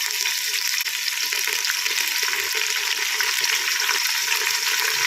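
Onions and cumin frying in a pan for mutton paya shorva, a steady close sizzle with faint stirring scrapes throughout, no voices.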